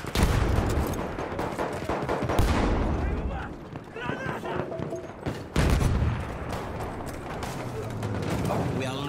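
Lewis gun machine gun fire in the Battlefield-style multiplayer match on the Tsaritsyn map, with dense rattling bursts and mechanical clatter running through the whole stretch amid other battlefield noise, with voices in the mix.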